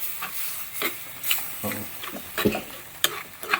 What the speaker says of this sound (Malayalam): എന്നിട്ട് നമുക്കൊന്ന് മിക്സ് ചെയ്യാം ഇളക്കാം നന്നായിട്ടൊന്ന് ഇളക്കുക